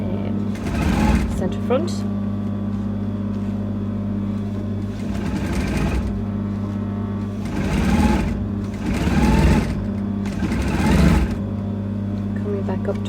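A sewing machine stitches stretched elastic onto a cape, running in several bursts of steady whirring with short pauses, under a steady low hum and someone talking throughout.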